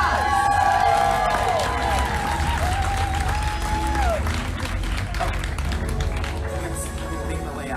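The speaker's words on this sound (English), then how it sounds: "Can we have a round of applause?" Audience at a civic election candidate event claps and cheers continuously for the candidates, a lively crowd sound with voices and whistles mixed in.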